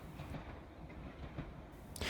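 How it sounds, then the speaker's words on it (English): A London Underground tube train runs toward Northfields, giving a faint, continuous rumble with rhythmic clickety-clack from the wheels on the rails and a brighter rush at the end. "we head back on the trains for a short trip to Northfields"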